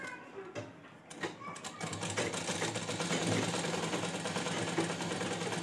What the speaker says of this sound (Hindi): तो मैं यहाँ पे सिलाई ले लेती हूँ चैन के लिए अंदर की तरफ